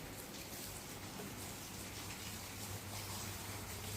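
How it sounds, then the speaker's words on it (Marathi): Steady, even rain hiss with a faint low hum underneath, continuous and fairly close, with no voices. "पाऊस पण चालू आहे."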